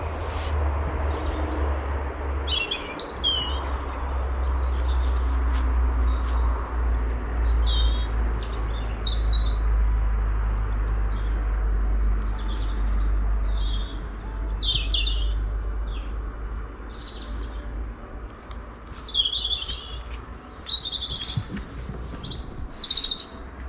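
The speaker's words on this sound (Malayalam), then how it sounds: "കിളികളുടെ സൗണ്ടും" Small birds chirp and tweet in scattered bursts throughout in autumn in Ireland, over a steady low rumble of outdoor background noise.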